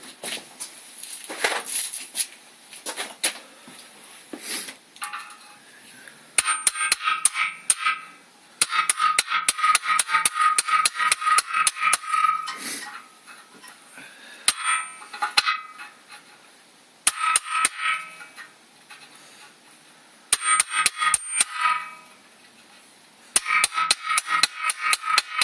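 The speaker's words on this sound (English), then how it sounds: "the first one I'm just going to tap down with the drive end of a 32mm socket" A hammer strikes the drive end of a 32mm socket to tap sealed motorcycle swingarm bearings into place, sharp metallic blows in rapid rhythmic bursts separated by short pauses, close and clear.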